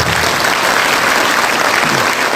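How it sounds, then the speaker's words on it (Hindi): A seated audience at a business-building seminar applauds a speaker in a warm, dense burst of steady clapping that fills the room loudly and evenly for a couple of seconds. "एक बार सर के सम्मान में एक छोटा ताली देते।"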